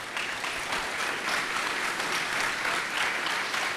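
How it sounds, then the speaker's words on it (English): Conference audience applauding a panel, steady dense clapping from a full room that keeps going for several seconds. "So anyway, round of applause for our panel."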